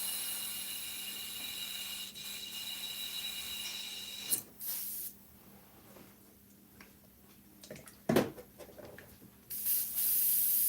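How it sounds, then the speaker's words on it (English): An airbrush sprays Createx paint onto Blair synthetic paper, giving a steady close hiss with bursts of louder air at the start and end. "Feels like a brand new airbrush"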